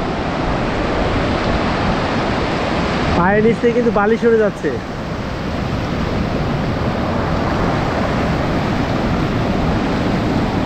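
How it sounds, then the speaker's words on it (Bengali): Big waves break on a sandy beach at Cox's Bazar in a loud, steady roar of surf close by, with someone talking briefly over it partway through. "এই বিশাল ঢেউ আসলে সত্যি খুব বিশাল ঢেউ।"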